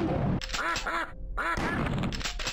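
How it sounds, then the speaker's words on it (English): A duck in the video game Killing Time: Resurrected gives a few nasal quacks in quick succession, with a short gap between them, over a low game background hum. "Duck."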